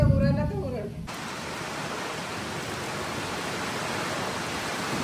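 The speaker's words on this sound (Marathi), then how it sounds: "खूप जोरात वारा सुटलाय" Strong wind and rain in a village, heard as a steady broad rushing roar that fills the scene after a woman's brief spoken remark at the start, continuous and fairly loud.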